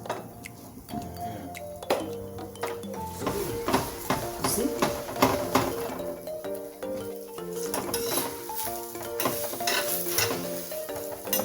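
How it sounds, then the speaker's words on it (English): Chapati frying on a hot pan for a goat stew meal, giving a steady sizzle with stirring and scraping taps throughout, close and fairly loud, with background household sounds and occasional voices. "You see now why it's cooking that fast is because of the pan is now hot."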